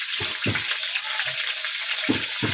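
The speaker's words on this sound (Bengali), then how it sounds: "প্রথমে করলাগুলো ভেজে নেব" Bitter gourd pieces dusted with a little turmeric frying in oil in a wok, giving a steady sizzle with a few short bursts of crackling spatter.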